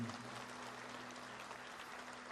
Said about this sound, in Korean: 우리의 평화 하나님께 감사 박수 올리겠습니다 여러분